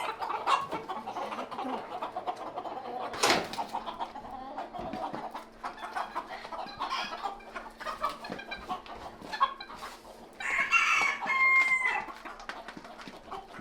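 Roosters crowing and clucking on a busy farm, several birds calling over steady outdoor background noise, with one loud close burst near the start and a livelier stretch of crowing toward the end.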